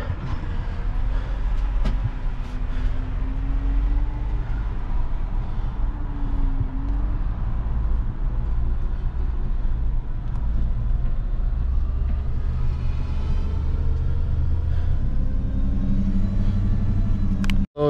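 Tow truck in the video game GTA driving toward the impound yard: a loud, steady engine and road rumble that holds for the whole stretch with no talking.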